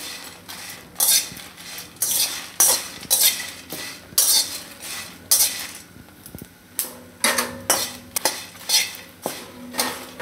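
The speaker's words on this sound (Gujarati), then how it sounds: "થોડીક વાર આપણે બધું શેકી લેહું." Whole spices for goda masala, including stone flower, stirred and roasted in a metal pan. A metal spoon scrapes and clatters against the pan in quick, irregular bursts, loud and close, with a faint sizzle underneath.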